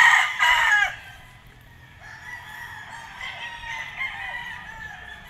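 Gamefowl roosters crowing in a flying pen on a gamefarm, a loud close crow at the start followed by several overlapping crows from birds farther off, with no talk.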